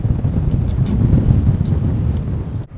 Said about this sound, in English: it has been pretty windy all day